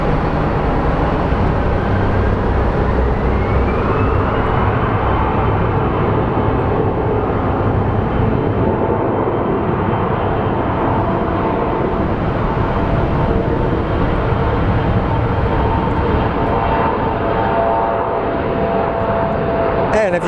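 A jet airliner rolls down the runway at Phoenix Sky Harbor for takeoff, its engine roar loud, broad and sustained for the whole stretch, with voices talking underneath.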